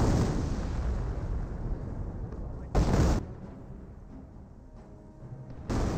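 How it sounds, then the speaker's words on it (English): An artillery barrage in the Company of Heroes game pounds away as a dense rumble of blasts, with a sharp louder burst near the middle and another at the end, the impacts fading into a lingering roar between them. "This one is lining up a barrage."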